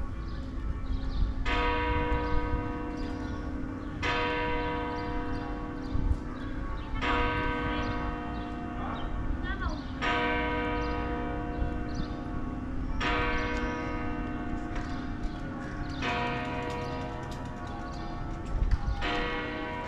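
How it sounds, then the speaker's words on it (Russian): A distant bell of a Gothic church in Novi Sad, Serbia tolls repeatedly at 7 a.m. at an even, slow pace, each strike ringing out and fading, carried over a steady background hum. "А это вдалеке колокол звонит."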